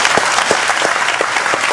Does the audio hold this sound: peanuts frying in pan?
no